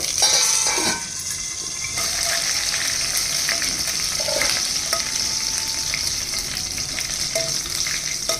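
Cumin seeds, peeled garlic cloves and curry leaves crackle and sizzle in hot oil, a dense close frying hiss with scattered pops and an occasional stir, no voices.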